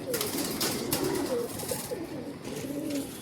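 Old-line breeding pigeons cooing in a loft, soft repeated throaty coos at moderate distance over a steady low background hum.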